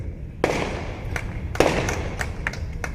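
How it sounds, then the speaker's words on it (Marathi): Firecrackers burst at a welcome for a politician in Sangola, in sharp, loud bangs, two big cracks followed by smaller pops, echoing against a rumbling crowd-like background. "आल्यापासून जे फटाके वाजतात ते अजून बंद झाले नाही"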